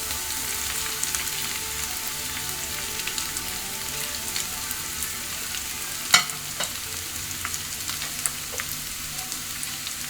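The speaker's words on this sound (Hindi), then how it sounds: "अदरक लहसुन के पेस्ट को अच्छे से भूनने के बाद मैं इसमें आधा किलो बॉईल किया हुआ चिकन ऐड कर रही हूँ" Half a kilo of shredded boiled chicken fries in a pan with ginger garlic paste, giving a soft, steady sizzle with occasional sharp clicks of a utensil against the pan.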